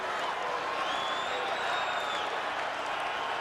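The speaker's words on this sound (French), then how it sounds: "La foule qui réagit au moindre geste de Boutet." A boxing crowd at Lucien Bute's fight against Brian Magee applauds and cheers in a continuous, even roar from a distance, with a commentator's voice talking over it.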